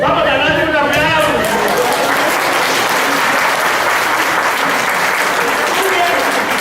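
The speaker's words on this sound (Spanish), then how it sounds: "vamos a darle un aplauso." Loud, dense applause from a lecture audience at a conference on sexuality in cancer patients, sustained and even throughout, with voices mixed into the clapping.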